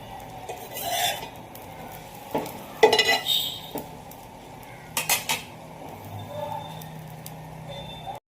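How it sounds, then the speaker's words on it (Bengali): Bread slices fry on a hot griddle with a soft sizzle, broken by sharp clinks and scrapes of utensils against the pan, and a voice speaks faintly at times. "চাটুটা গরম হয়ে গেছে, এবার এই পাউরুটিটা"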